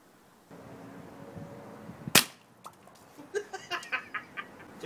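A gun fired at an egg in slow motion gives one sharp, loud crack that cuts through a low background hum, followed by a scatter of fainter splatters and ringing clatters.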